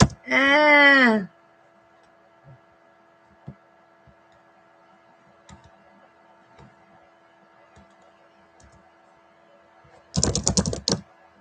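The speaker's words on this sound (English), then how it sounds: "Now I'm typing again." A computer keyboard being typed on in a quiet room, two short bursts of rapid clicking, one at the start and one near the end, with faint scattered taps and low hum between them.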